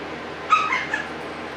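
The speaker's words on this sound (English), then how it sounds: "pardon me if you hear barking in the background" A small dog gives a brief, high yip-like bark and a whimper, short and a little distant, set against a quiet room background with no talking.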